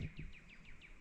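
A single bird outdoors gives a short run of five evenly spaced descending chirps, faint and distant, with no voices.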